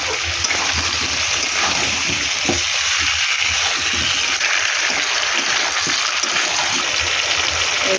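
Washed taro and potato pieces go into a pan of Bengali rohu fish curry, bringing a steady broadband sizzle and splashy crackle that holds at an even, fairly loud level throughout with no talk.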